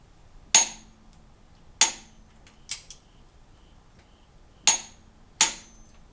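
Sharp metallic clicks of a torque wrench on a cam phaser bolt of a GM 3.6L GDI engine in a 2008 CTS, set to 43 foot-pounds: five distinct snaps spread over several seconds, close and loud, with no talk.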